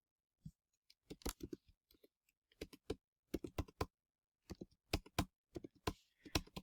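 Someone types on a computer keyboard in quick, irregular clusters of crisp clicks, close and clear against a quiet room, with short pauses between bursts.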